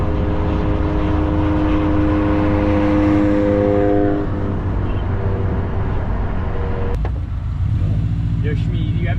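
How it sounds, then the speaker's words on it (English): A Volkswagen GTI passes on a street at night among a group of cars, its engine a loud steady drone that holds for several seconds, then eases off and fades. "Here's that GTI."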